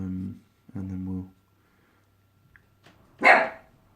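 A single sharp dog bark sounds close by near the end, after a low droning voice and a pause of near silence.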